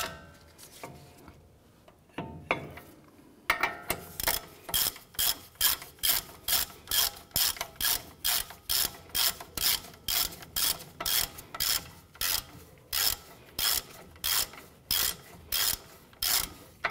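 Rhythmic ratchet clicking as brake caliper bolts are tightened on a 2011-2018 Ram 1500, with steady back-and-forth strokes of the ratchet repeating for many cycles, close and clear, with no talking.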